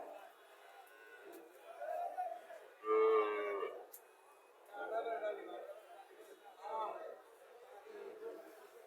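A crossbred Indian dairy cow moos at a cattle market, several drawn-out moos in succession, with the loudest near the start and background crowd chatter.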